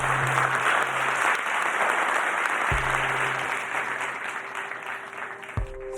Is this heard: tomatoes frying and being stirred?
no